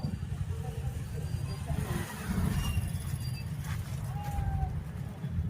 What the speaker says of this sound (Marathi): अयोध्या मंदिर जाण्यासाठी खूप ट्रॅफिक आहे.